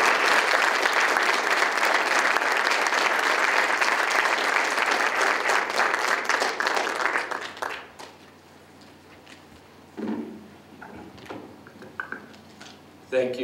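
An audience at a college Courtyard of Honor ceremony applauds to welcome a speaker, with loud, dense clapping for about seven seconds that then breaks off into scattered claps, shuffling and a brief voice.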